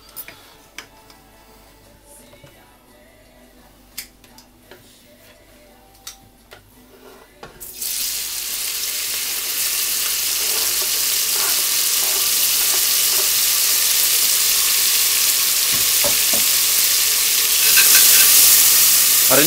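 Celery hits hot lamb fat in a potjie pot on a Cobb barbecue over medium heat, breaking into a loud, steady sizzle after a quiet stretch of faint clicks and taps.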